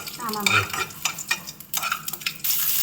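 Onion frying in oil for beans poriyal, a loud, close sizzle with repeated scraping stirs of a spatula in the pan, starting and stopping in short bursts.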